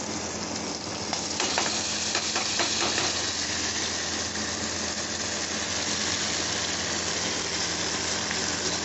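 Poppy seed paste fries in oil with fish for Bengali katla posto, giving a steady, close sizzle with occasional stirring scrapes over a constant hiss.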